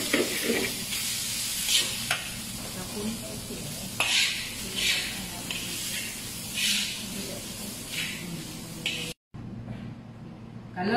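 Mixed vegetables sizzling and frying in a pan while being stirred, a constant close hiss with repeated scraping bursts, cut by a brief gap near the end.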